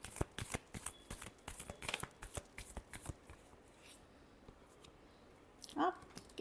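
Tarot cards being shuffled by hand, a rapid run of close, soft riffling flicks and taps that settles into a quiet pause before a final brief burst near the end, with no talking.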